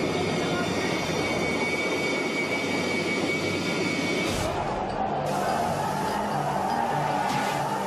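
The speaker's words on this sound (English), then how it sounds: "An Air Force helicopter arrives to pull the panicked people from the burning building." Air Force rescue helicopter hovering over a burning building, its rotor and engine a loud, steady broadband roar that holds through the whole stretch with a brief shift midway.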